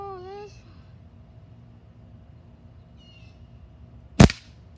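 A single sharp crack from a Crosman .177 caliber BB air rifle firing, close and loud near the end, after a brief vocal sound at the start and a quiet stretch.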